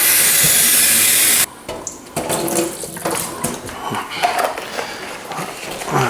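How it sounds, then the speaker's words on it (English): Water gushes loudly from a tap into a mixing bucket for about a second and a half, then stops, followed by splashing, sloshing and clattering sounds close by. "I'm going to put a bit more water in here."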